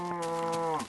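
A cow moos once in the video game Minecraft, a short, clear, slightly falling low moo heard alone and close.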